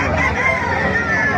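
A rooster crows once at a moderate distance over a busy background of crowd chatter and other fowl at a gamefowl gathering in Bocaue, Bulacan.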